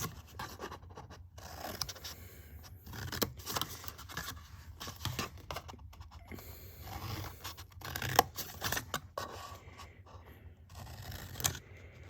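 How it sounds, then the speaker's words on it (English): Scissors snip and scrape through card while a Christmas card box is made, producing a steady run of quiet, close crisp cuts and rustles spread across the whole stretch, with no talking. "Scissors."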